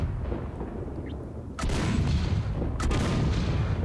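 A mid-sized ship turret weapon fires twice in a space video game: two sharp, loud blasts about a second apart, each followed by a heavy rolling rumble that lingers over a constant low background drone.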